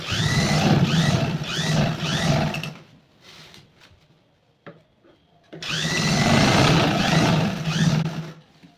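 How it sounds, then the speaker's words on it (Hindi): A sewing machine stitches fabric for a fishcut mermaid gown in two loud, fast, rhythmic bursts, separated by a few seconds of quiet handling and small clicks. "पूरे में सिलाई लगा देते हैं"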